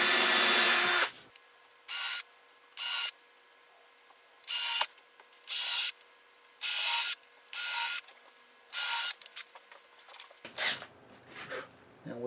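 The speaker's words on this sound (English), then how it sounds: "Going to secure the runners with number 8 by 3/4 inch screws, and I need to countersink them." A battery power drill countersinks holes for number 8 by 3/4 inch screws in wooden sled runners, giving about nine short, loud whirring bursts with pauses between, close up and with no talk.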